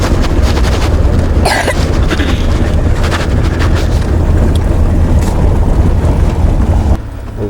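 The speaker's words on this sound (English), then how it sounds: "It's real cold and frosty this morning, and there's a wind blowing" Cold, frosty morning wind blowing hard across open Wyoming hills, a steady, loud rushing roar buffeting the microphone for the whole stretch, easing slightly near the end.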